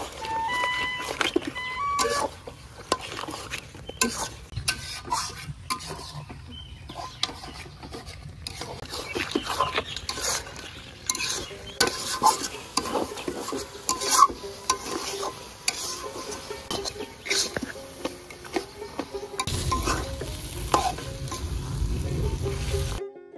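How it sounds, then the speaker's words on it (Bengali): Boiled taro greens mashed and stirred in a pan with a utensil, a busy run of scraping, squelching strokes over a low sizzle, close and fairly loud, continuing throughout. "এবার হলো ঘাটার পালা। ঘাটতে ঘাটতে একদম গলিয়ে ফেলবো।"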